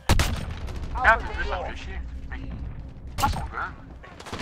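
Gunfire bursts from a Modern Warfare multiplayer beta match, with sharp shots crackling near the start and again around three seconds, while players talk and in-game announcer callouts run throughout.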